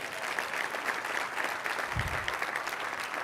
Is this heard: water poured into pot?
no